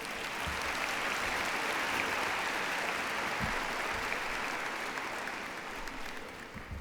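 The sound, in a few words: round of applause at graduation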